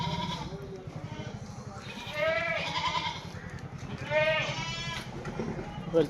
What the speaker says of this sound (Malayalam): നല്ല മടിയാട് ആട് ചെറുപ്പ ആടാണ്